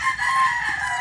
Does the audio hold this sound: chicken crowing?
yes